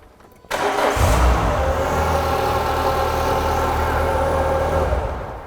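A Renault Clio 182 cranks briefly and fires up, then settles into a steady, loud idle that runs on close by, with no talking.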